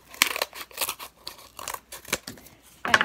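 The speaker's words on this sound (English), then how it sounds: "you can cut off some ear hoofs from the cardboard" Scissors cut cardboard ear pieces for a cardboard therian mask, several close, crisp snips and crunches in an uneven rhythm with short pauses between cuts.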